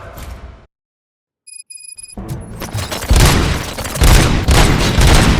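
Gunfire in the video game Robocop: Rogue City, a sudden dropout and short electronic tones followed by a rising loud barrage of booming, dense shots that swell and stay heavy.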